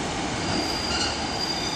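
A train rumbles steadily past close by at Exeter St David's station, with a high metallic wheel squeal ringing over the broadband roar.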